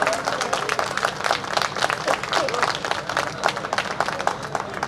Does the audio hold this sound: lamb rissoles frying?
no